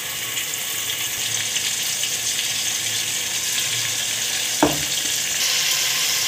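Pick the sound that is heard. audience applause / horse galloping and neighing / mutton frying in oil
mutton frying in oil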